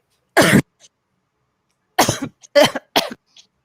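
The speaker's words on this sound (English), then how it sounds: "I really had to cough" A sharp cough, then a pause, followed by a quick run of three or four harsh coughs close to the listener, with no talking.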